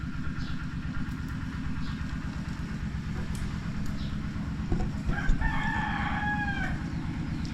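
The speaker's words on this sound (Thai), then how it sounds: "ไก่กับไก่ใหญ่เนี่ย ไก่แม่ ไก่ตัวแม่" A rooster crows once partway through, loud and nearby, over steady clucking from chickens and a hen, with a low engine hum running underneath the whole time.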